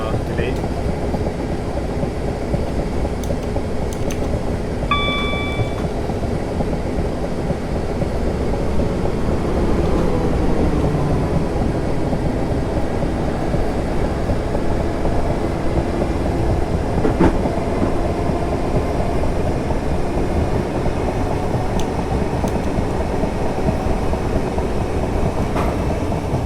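Train running on rails in Train Simulator 2018 between London Victoria and London Bridge, with a steady loud rolling rumble and clickety-clack joints, a few brief high tones near the start, continuous for the whole stretch.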